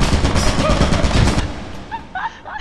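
A video-game turret fires a rapid, loud burst of automatic gunfire for about a second and a half, then cuts off, leaving faint scattered game sounds.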